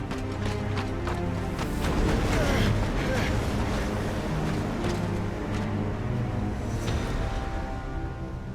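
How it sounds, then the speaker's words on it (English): Stormy wind in the Final Fantasy 16 video game roars steadily and loudly throughout, with a dense low rumble and gusty swells that stay continuous from start to finish. "That's not just windy weather you're wandering into."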